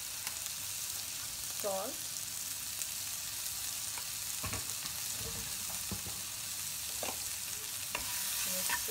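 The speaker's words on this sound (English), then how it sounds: "Now I'm going to add veggies in the pan" Vegetables fry in ghee in a pan for savoury vegetable vermicelli, a steady sizzle running throughout with scattered scraping stirs and brief spoken words over it.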